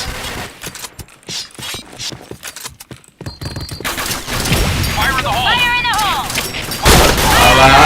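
Video game gunfire crackles in rapid bursts and scattered single shots, loud and close at first, then gives way to denser battle noise with booms and tonal effects. Players talk underneath throughout.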